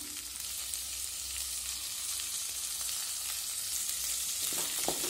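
Boiled green peas sautéed with masala powder in a pan for a vegetable samosa filling make a steady, close sizzle that runs throughout without speech, with a few louder scraping stirs near the end.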